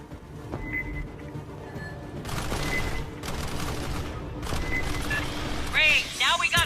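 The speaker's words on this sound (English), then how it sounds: "Must have heard the gunfire." Gunfire in Aliens: Fireteam Elite, with rapid bursts of shots mixed with game effects and a few high whistling tones, and talk heard over the action.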